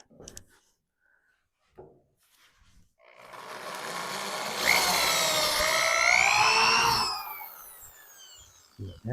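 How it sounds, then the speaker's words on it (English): A drill bores a hole for trim on a 1962 Dodge Dart, whining up for a few seconds with its pitch sweeping as it bites into the metal, close and fairly loud, with quiet handling noises before and after. "Drill it."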